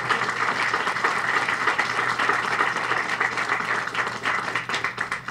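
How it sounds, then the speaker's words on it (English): Sustained applause from an audience at a ribbon cutting ceremony for a renovated apartment building, honoring city councilors, steady dense clapping throughout with no voices. "please give them a round of applause"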